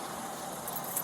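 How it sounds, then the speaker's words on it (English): Keys jangle and rattle close by in one short continuous burst as they change hands, with a car's low hum in the background. "I'm giving him the keys, okay?"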